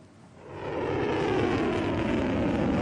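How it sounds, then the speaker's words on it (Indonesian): A jet-like aircraft engine roar swells up within the first second and then holds as a steady, moderately loud drone, in Iranian TV footage of a drone and missile launch against Israel. "Iran meluncurkan serangan rudal dan ratusan pesawat tanpa awak ke wilayah Israel"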